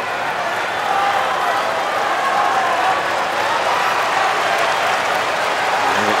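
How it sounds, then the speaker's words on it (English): A US Open tennis crowd during the fifth set of Andy Murray vs Stefanos Tsitsipas makes a steady wash of murmuring and clapping that fills the stadium without a break. "And you can hear the crowd. They're getting on Tsitsipas for any delay now"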